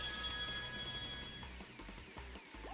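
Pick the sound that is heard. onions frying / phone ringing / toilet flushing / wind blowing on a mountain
phone ringing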